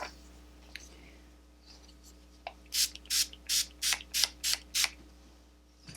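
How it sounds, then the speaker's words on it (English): Eight quick, hissing sprays of makeup setting spray onto a face burst in a steady rhythm close by, each a short airy spritz, after a few soft handling clicks. "Let me spray my face."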